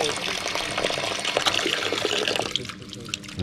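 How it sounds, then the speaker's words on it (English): Fresh mountain water runs and splashes steadily into a water bottle, close by, with a brief change in tone near the end as the flow shifts. "let's get some water, Scoobs"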